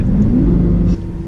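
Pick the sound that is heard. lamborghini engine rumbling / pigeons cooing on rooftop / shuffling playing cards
lamborghini engine rumbling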